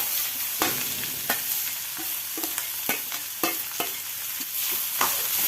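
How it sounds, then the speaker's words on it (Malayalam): Mustard seeds spluttering in hot coconut oil while bitter gourd fries and is stirred: a constant sizzle broken by sharp scraping and popping strokes every half second or so, close and clear, no voices. "ഒരു സ്പൂൺ വെളിച്ചെണ്ണ ഒഴിച്ച് കൊടുത്ത് ഒരു ടീസ്പൂൺ കടുക് ഇട്ട് കടുക് പൊട്ടി വരുമ്പോൾ"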